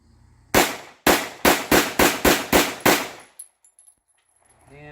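A Girsan 1911C .45 ACP pistol loaded with aluminum-cased rounds fires eight sharp, loud shots in quick, slightly uneven succession, followed by a few faint metallic clinks and then quiet.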